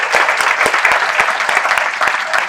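A loud crowd of attendees applauds at an annual arts awards ceremony. Close, sharp claps sound in a steady, even stream throughout.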